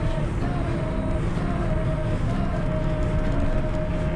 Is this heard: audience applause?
no